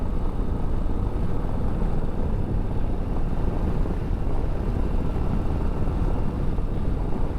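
Harley-Davidson Low Rider ST performance bagger ridden through S curves, a steady dense engine drone heavily mixed with rushing wind buffeting the microphone, loud and continuous without speech.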